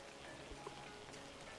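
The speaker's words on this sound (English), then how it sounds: "So, oh, it's raining. Right here, that's convenient." Steady rain falls in a soft, continuous hiss with scattered drops, faint and unbroken throughout.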